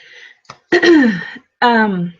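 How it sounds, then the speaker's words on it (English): A person clears their throat in two voiced, rumbling bursts after a brief breathy sound, close to the listener. "I had to clear my throat"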